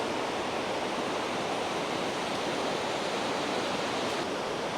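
A monsoon river flowing through the Western Ghats gives a dense, steady broadband rush, uniform and unbroken throughout, with no voices.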